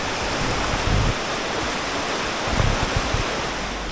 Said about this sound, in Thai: เดี๋ยวพามาดูแม่น้ำน้ำไหลแรงมาก